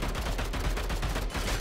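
An assault rifle in the retro first-person shooter Bunker Punks fires in a rapid, steady stream of close, punchy shots with no pause.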